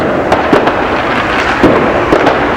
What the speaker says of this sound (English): Now you've probably noticed, you might be able to hear, that there's lots of fireworks going off.